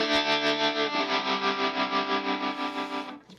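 A sustained distorted electric guitar chord from an Enya smart guitar's vibrato effect wavers with a steady, pulsing vibrato, then fades out at the end.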